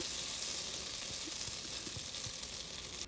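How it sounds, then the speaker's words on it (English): Ingredients melt down in a pan for pesto Alfredo, giving a soft, even sizzle with faint bubbling pops throughout and no voices. "I'll let this melt down."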